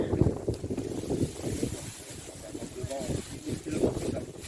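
Wind gusting outdoors at a collective earth-and-straw insulation building site, a steady rough rumbling buffet across the microphone with muffled voices underneath.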